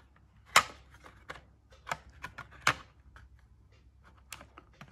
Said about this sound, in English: I will reconnect my hard disk